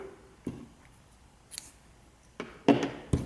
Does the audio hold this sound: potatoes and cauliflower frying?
no